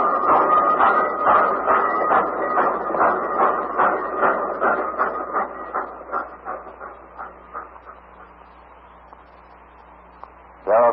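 A steam train effect from a 1942 radio drama, with rhythmic chugging that starts loud and steady, then thins and slows as it fades into the distance before a brief sharp burst at the end.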